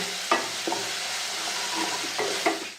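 Spices and onion-garlic masala being stirred in a hot pan for Saoji dal kanda, a spoon scraping and tapping several times over a constant low sizzle.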